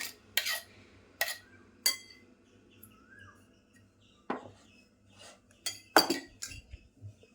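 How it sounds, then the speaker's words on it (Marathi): Ground masala paste for a Malvani fish dish being scraped out into a kadhai, heard as a handful of sharp, irregular metallic clinks and taps, close and fairly loud, with quiet gaps and no talk. "आता सगळं वाटण मी याच्यामध्येच काढून घेते."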